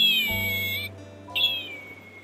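A plush toy zebra-striped cat plays its built-in electronic meow, two clear synthetic mews separated by a short pause, close and alone with no talking.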